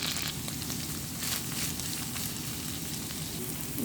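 Close, steady sizzle of onion frying in butter with ginger garlic paste, a continuous crackling hiss with small spitting pops throughout, no talk.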